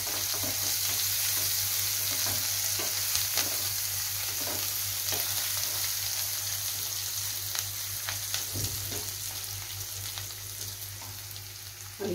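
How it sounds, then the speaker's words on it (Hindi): Ginger garlic paste fries in a pan with already-fried onions for a dahi aloo curry, giving a steady close sizzle with scattered crackles and soft stirring clicks, unbroken and with no talk. "और इसे भी इसमें फ्राई होने देते हैं।"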